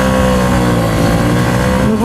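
Honda CB125F 2017 motorcycle engine droning loud and close while riding, a steady mid-pitched buzz with wind noise.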